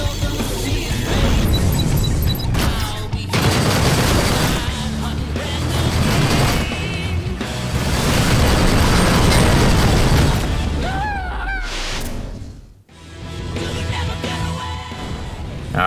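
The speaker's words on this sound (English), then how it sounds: "Missile inbound." Incoming missiles and explosions during space combat in the game Rebel Galaxy Outlaw, a loud, continuous stretch of booming blasts and rumbling impacts that dips briefly near the end before resuming.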